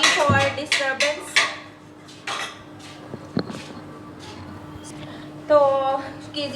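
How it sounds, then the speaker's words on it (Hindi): At home, a child bangs metal utensils against pots and pans, making sharp clanks and rattles in irregular bursts. The noise is loud at first, then comes in sparser clatters, with someone talking in the background. "तो कीजिया ने बहुत शोर मचाया हुआ था, तो बर्तन ऐसे कर रही थी कि शोर शराबा,"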